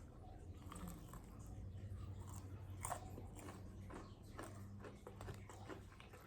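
Crunchy, spicy Nashville Hot Chicken Tenders from KFC crackle through repeated close bites and chewing, with a louder crunch near the middle.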